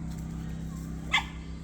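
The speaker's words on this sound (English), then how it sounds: "Dogs barking" A single brief, fairly distant dog bark rises over the steady hum of a Westinghouse iGen2200 inverter generator running beside a Runaway Range Runner camper.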